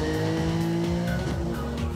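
A race car's tires squeal loudly as it is wrestled around a final left-hand corner, a sustained screech layered over the roaring engine for two seconds, close and with no voices.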